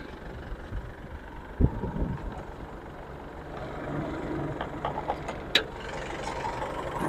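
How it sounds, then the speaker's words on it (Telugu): An Isuzu V-Cross diesel engine idles with a steady, muted low rumble and broadband hiss, joined by a few light clicks and taps near the end, with no talking. "ఇంజన్ చాలా సైలెంట్ ఉంది"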